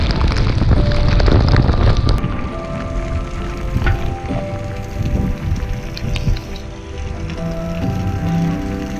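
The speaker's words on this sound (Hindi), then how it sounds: "कोयम्बतूर जस्ट पहुंचने ही वाले थे कि बारिश बहुत ज़्यादा हो गई" Heavy rain during a motorcycle tour near Coimbatore, South India, hisses and patters steadily, mixed with strong wind buffeting the microphone and faint tonal background hum, with no talking.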